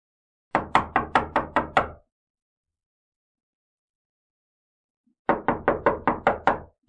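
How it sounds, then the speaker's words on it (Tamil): Two bursts of rapid knocking on a door, each about six or seven sharp raps, separated by several seconds of silence; loud, close and without any voices. "இதுவும் தட்டுறாங்களே"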